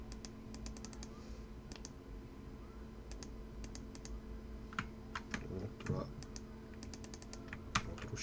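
Quick bursts of clicking keystrokes on a computer keyboard as text is typed into a Google Docs document, close and fairly quiet, in irregular clusters with short pauses.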